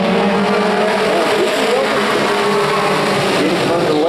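Pro 4 race trucks getting underway at Evergreen Speedway, a dense, loud, continuous roar of many engines revving and droning together, steady throughout with layered overlapping engine tones.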